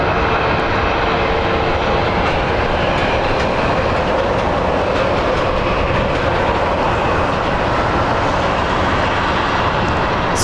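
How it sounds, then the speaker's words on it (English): An American Airlines Boeing 737 jet roars steadily and loudly at Phoenix Sky Harbor International Airport, a broad unbroken engine rumble close by with no talk. "up next we have American Airlines 1951. It's a Boeing 737 going to San Diego."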